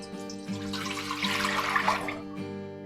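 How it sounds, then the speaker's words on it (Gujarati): Water pours steadily into a steamer pot being set up to cook Surti locho in a home kitchen, a continuous splashing rush lasting a few seconds with no talk. "આપણે સ્ટીમરની લાઈન છે તેનાથી અડધું પાણી લીધું છે."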